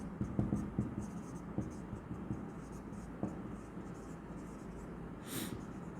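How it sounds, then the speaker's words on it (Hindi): Pen writing by hand on paper while a finance formula is explained, soft scratchy strokes and taps close by under a speaking voice. "नीचे में आपको लिखना होगा"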